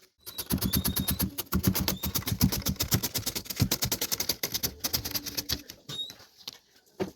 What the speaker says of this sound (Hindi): पहले प्याज को सर्कुलर साइज में काट लेंगे।